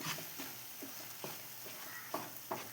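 Tomato chutney with curry leaves, cumin and fenugreek sautéing in oil in a pan, a soft continuous sizzle with several light stirring taps and scrapes at irregular intervals.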